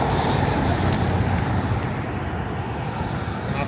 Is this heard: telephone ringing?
no